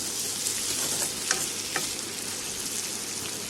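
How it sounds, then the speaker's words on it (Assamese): Flour mixture being stirred in a pan over a low gas flame, a soft continuous sizzle with a few faint scraping strokes, close and steady with no talking. "এইফালে আকৌ ময়দাখিনি লৈ মই আৰু এবাৰ লৰাই লৈছোঁ।"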